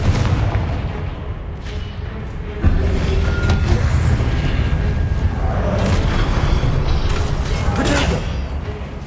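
A fiery blasting spell in the video game Hogwarts Legacy erupts in heavy booming explosions with a rumbling, crackling tail, loud and continuous over game ambience.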